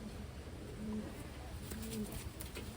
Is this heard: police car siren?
no